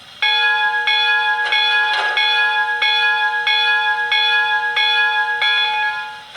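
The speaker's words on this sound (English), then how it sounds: "Let's see, a bell." A locomotive bell from a Blunami 4408 sound decoder in an O scale three-rail Williams Hudson rings at a steady rhythm, about ten clear metallic strokes, loud and close with no talking.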